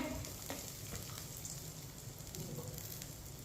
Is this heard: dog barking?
no